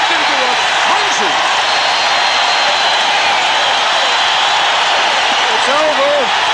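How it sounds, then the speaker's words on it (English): A boxing arena crowd roars in a sustained, dense wall of cheering during a fight, loud and unbroken throughout, with a few faint shouts rising above the din. "And the crowd whipped into a frenzy."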